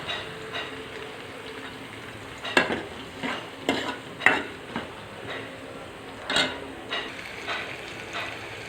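Chopped onions and green chillies fry in oil with dried red chillies, cumin and mustard seeds, giving a soft continuous sizzle broken by repeated sharp scraping stirs of a spoon in the pan.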